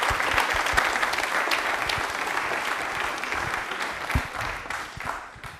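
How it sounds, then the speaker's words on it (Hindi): Loud, dense audience applause fills a yoga special broadcast on DD Rajasthan, steady and sustained throughout before tapering slightly near the end, with no talk over it. "तालियां हो जाए भाई जोरदार वाली"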